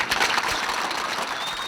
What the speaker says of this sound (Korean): 여러분들도 큰 박수 한번 부탁드립니다